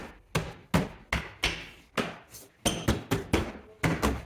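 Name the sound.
plastic door panel clips snapping into place, Subaru Impreza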